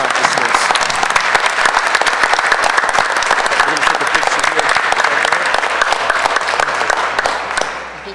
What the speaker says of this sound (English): Let's give Brianna a big round of applause.